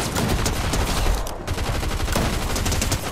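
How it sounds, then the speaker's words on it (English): Dense, loud gunfire from the video game Fortnite rattles almost without pause, an intense sustained burst of rapid shots with a brief dip midway. "Somebody's shooting, here!"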